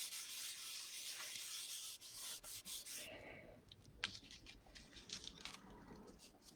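Paper being rubbed on the back of an espresso sketch, a steady dry scratchy rubbing for about three seconds, then lighter, uneven rubbing strokes with small taps, close and alone.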